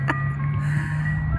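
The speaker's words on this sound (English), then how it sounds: "Go chase the ice cream truck if you have to." An ice cream truck passes, its faint tinny jingle drifting over a low steady hum, brief and distant with a soft rising hiss near the start.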